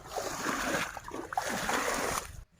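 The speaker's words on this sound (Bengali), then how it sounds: "বাঁধাকপি গাছে জল দিচ্ছে" Water splashes and patters steadily onto cabbage plants growing in a field, a close, continuous wet spatter that cuts off abruptly near the end.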